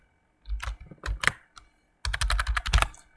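Rapid keyboard typing comes in two bursts of clustered clacks, separated by a short pause, close and clear with no voices.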